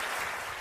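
An audience claps in a short burst of dense, loud, continuous applause filling the room, with no voice standing out above it.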